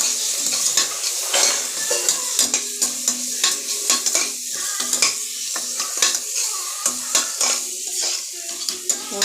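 Mushroom biryani ingredients stir-frying in oil, with a bright continuous sizzle broken by frequent sharp scrapes and clinks of a spatula against the pan in an uneven rhythm, close and alone.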